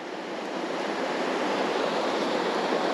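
Adkins Creek flowing through a canyon below a bluff line, a steady, loud broadband rush of water that holds constant throughout with no voices over it.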